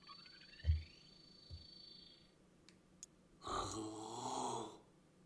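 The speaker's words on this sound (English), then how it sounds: "Why is he breathing like he has the croup?" Labored, raspy breathing from a character in the roguelike game BlazBlue Entropy Effect, heard as quiet wheezy, snore-like breaths with a longer rough exhale near the end, and a few soft clicks before it.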